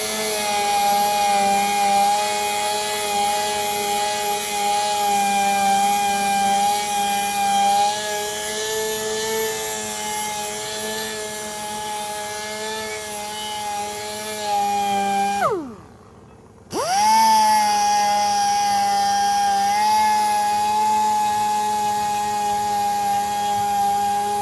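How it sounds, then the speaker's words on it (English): A power sander with a 320 grit disc whines steadily at close range on a curb-rashed machined Acura RDX wheel rim, its pitch dipping as it briefly stops, then spinning back up and running on. "we're going to go with the 320 grit sanding disc."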